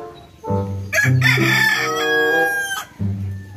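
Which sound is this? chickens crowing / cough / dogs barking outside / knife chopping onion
chickens crowing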